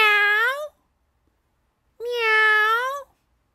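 A voice imitates a cat's meow twice, long drawn-out harmonic calls separated by about a second of silence, close and clear.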